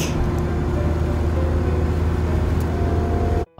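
Vehicle cruising along the NLEX expressway, a continuous loud low engine and road rumble with steady tire noise that cuts off abruptly near the end.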